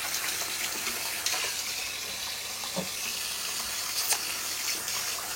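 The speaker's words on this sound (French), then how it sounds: "vite fait me rincer les doigts" Running tap water splashes steadily over fingers during a quick rinse in a home kitchen, broadband and continuous, with a few small clinks nearby and no talking.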